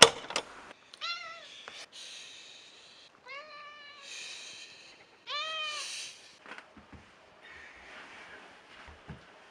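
A cat meows three times, drawn-out plaintive cries with short gaps between them, followed by scattered soft knocks and rustling in a quiet room.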